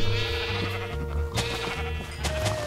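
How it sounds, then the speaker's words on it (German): Repeated sheep bleats from a Minecraft game, several overlapping calls in quick succession over a steady game music background, fairly loud and with no voices. "Und scher die Schafe hier mal."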